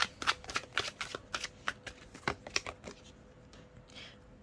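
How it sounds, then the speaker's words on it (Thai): Tarot cards being shuffled by hand, a run of quick riffling bursts and soft slaps close up, easing off toward the end with no talking. "วันนี้เป็นไรสับไพ่ติดตลอด"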